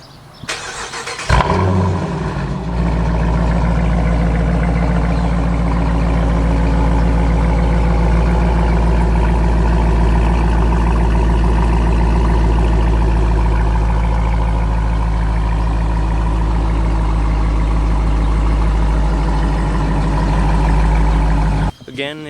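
A Dodge Challenger R/T V8 with its active exhaust deleted fires up with a sharp bark, then settles into a loud, steady, deep idle that rumbles on close by for about twenty seconds before cutting off.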